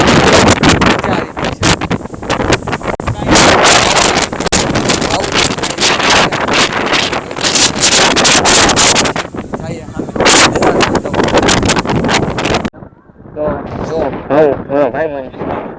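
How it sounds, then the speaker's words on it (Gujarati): Strong gusts batter the microphone at Wilson Hill garden in changing cloudy weather, a loud buffeting rush that drops out briefly near the end as a voice comes through. "પવન એટલે પવન હોય ટાંગમાં ફૂલ પવન છે"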